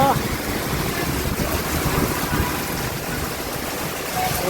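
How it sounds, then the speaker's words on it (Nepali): Heavy rain with hail pouring down in Kathmandu, a dense, steady hiss and patter that stays loud and unbroken throughout. "एकदमै असिना सहित पानी परिरहेको छ।"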